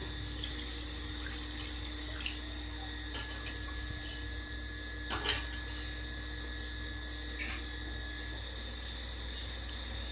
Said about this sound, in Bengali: এই গামলাটা ধুয়ে একটু জল দিয়ে দেবো আমি আরেকটু জল দিয়ে দেবো